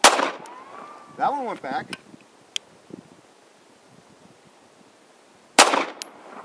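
Two sharp, loud reports from a Hi-Point .380 pistol, one at the very start and another several seconds later, with a brief voice and some rustling in the quiet gap between them.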